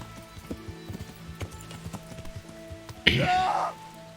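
Steady clip-clop of horse hooves in a quick trotting rhythm in the video game Kingdom Come: Deliverance, then a brief louder burst of whinnying near the end.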